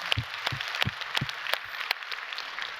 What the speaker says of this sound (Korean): 우리 좋으신 하나님께 박수로 감사합니다